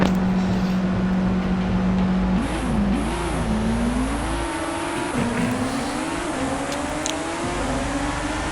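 Race car engine in the Moboposto F1 game at the Bahrain GP, holding a steady whine before rising and dipping through gear shifts and revs, loud and continuous.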